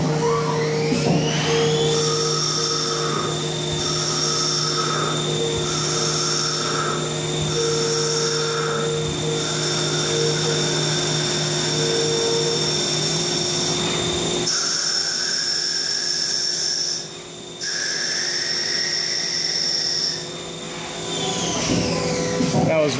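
A lathe takes a roughing cut on bar stock, giving a steady, loud mechanical whine with sustained tonal hum that holds nearly unchanged for about twenty seconds, briefly dipping twice near the end.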